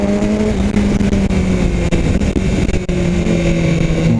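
A BMW S1000 R motorcycle engine pulling hard under acceleration near 7,000 rpm, a loud close continuous roar with steady rising harmonics and no talking.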